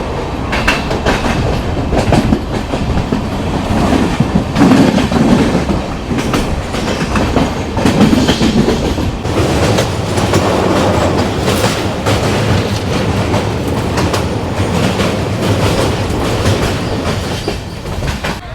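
The Sairang Express, pushed by a banker locomotive, rolls along the track with continuous loud rumbling and rhythmic clickety-clack of wheels, heard close with occasional faint squeals.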